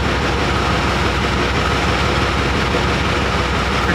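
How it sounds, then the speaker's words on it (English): A southbound passenger train pulls into Montpelier station in Vermont, heading for Washington, with a steady, loud, continuous low rumble of engine and rail noise that holds at one level throughout, with no talk. "here comes the train going south to"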